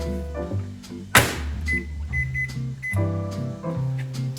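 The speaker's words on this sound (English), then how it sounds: "put it in the microwave for just about 3 minutes" A microwave oven runs with a lidded dish of eggplant strips inside, giving a steady low hum with a single thunk near the start and a few faint beeps. Nobody speaks.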